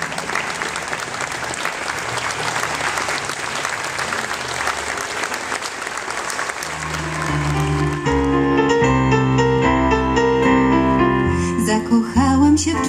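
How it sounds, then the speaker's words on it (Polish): A theatre audience claps loudly and steadily for about eight seconds to welcome actress Magdalena Zawadzka onto the stage at her tribute gala, then the applause gives way to music. "Te brawa się oczywiście należą, słusznie."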